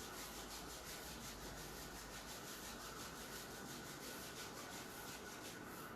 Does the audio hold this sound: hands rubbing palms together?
yes